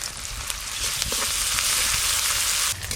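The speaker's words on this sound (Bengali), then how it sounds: "পেঁয়াজ আদা রসুন হালকা করে ভেজে নিয়েছি" Chopped onion and ginger-garlic paste fry in mustard oil, giving a steady, close sizzle with a few light stirring sounds and no talk.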